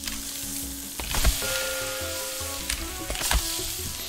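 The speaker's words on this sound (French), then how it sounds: "Je fais les steaks." Steaks sizzle steadily on a grill in the cooking game Cook Serve Delicious 3, a continuous frying hiss with a few sharper pops and thumps over soft game music, no voices.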